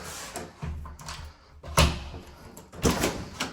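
A new basement security door opens and shuts nearby with a few solid thuds, bumps and rattles.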